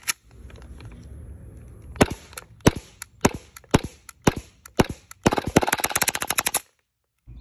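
Full-auto Glock 18C pistol with a conversion kit firing outdoors: a few sharp separate shots, then a rapid, loud, tightly spaced burst that cuts off abruptly.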